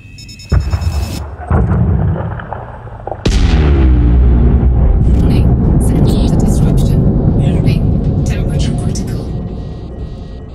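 A mining charge detonates in the space game Elite Dangerous: an abrupt deep boom and crackle, then a second heavier blast that swells into a loud, sustained rumbling roar slowly fading.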